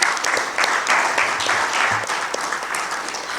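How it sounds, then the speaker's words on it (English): An audience applauds after a social justice panel, dense steady clapping that is loud and close and continues throughout. "While you're applauding"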